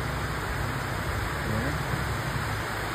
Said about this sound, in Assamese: এনেকুৱা বৰষুণ দিছে দেখিছেনে